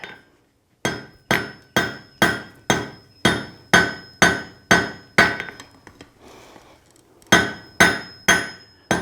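Hammer blows ring out on hot steel while forge welding a meat hook, a fast regular series of sharp metallic strikes, a short pause with faint scraping, then more evenly spaced blows.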